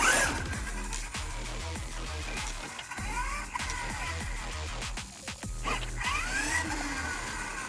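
An RC armor truck running a Max 6 ESC on a 6S battery drives continuously, its motor whining and surging up and down in pitch alongside rough rattling from the chassis, loud and close throughout.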